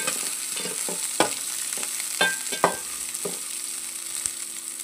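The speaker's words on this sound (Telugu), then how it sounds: "ఈ ఉల్లిపాయని కొంచెం సిమ్లో పెట్టేసుకొని ఫ్రై చేసేసుకోవాలి" One large onion frying in a pan over a low flame, a soft constant sizzle broken by several sharp spatula scrapes and taps, close up with no voices.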